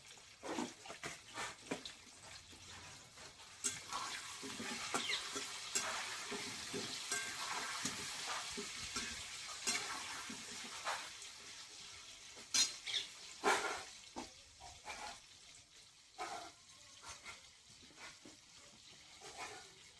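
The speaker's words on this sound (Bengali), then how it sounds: "আলুটা ভালো করে ভেজে নেব" Potatoes fry and sizzle in a pan, with a steady crackling hiss and occasional clinks and stirring scrapes, close and moderately loud, with no voices.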